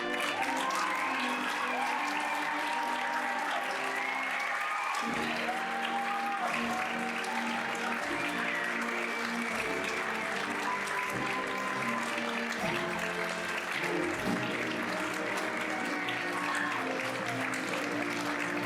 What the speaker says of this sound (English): Big round of applause for all these guys.